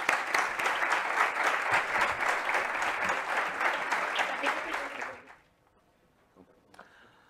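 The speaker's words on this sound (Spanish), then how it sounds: "Un aplauso para ellas." Conference audience at a circular economy congress applauding for about five seconds, dense steady clapping that stops abruptly, followed by near silence with a faint rustle.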